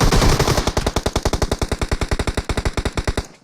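Rapid automatic weapon fire in the mobile battle royale game PUBG Mobile during an esports match: a loud, unbroken burst of about thirty evenly spaced shots over roughly three seconds, then an abrupt stop.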